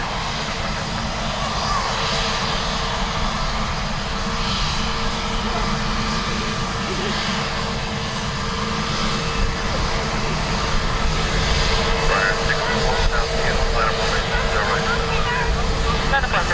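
An Aer Lingus jet, flight EI 166, departs Dublin Airport with a steady, loud engine roar that holds throughout and swells slightly toward the end.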